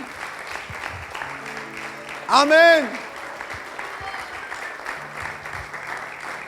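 A church congregation claps steadily throughout a sermon, with a soft continuous patter of applause under a preacher's amplified voice and a brief louder shout in the middle.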